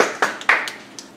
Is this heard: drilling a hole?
no